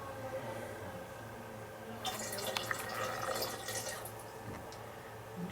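Yeast water poured into a soda bottle for homebrew ginger ale, a faint, close gurgling trickle lasting a couple of seconds over low background hiss.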